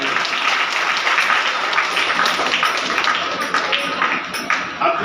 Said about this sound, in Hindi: बहुत जोर से ताली बजाएं आपने